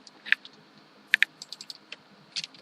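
Scattered keyboard clicks, a few sharp isolated keystrokes and then a brief quick flurry, come from typing Python code on a computer, close and fairly quiet with no talking.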